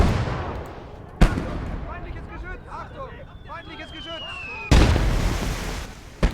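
Katyusha rocket fire and shell blasts in a war video game: two sharp, loud explosive booms about three seconds apart, with someone talking continuously in between.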